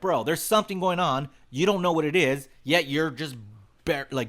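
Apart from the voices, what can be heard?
No everyday noises stand out.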